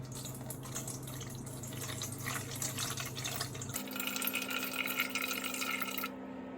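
Warm water at about 98 degrees pouring steadily into a container sitting on a kitchen scale, a continuous close splashing stream with a shift in pitch partway as the container fills, then a quiet stop near the end.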